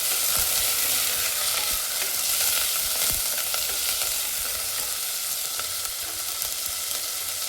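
Curry leaves and green chillies frying in a pan, a loud, close crackling sizzle with stirring scrapes and a few sharp taps, steady throughout without speech.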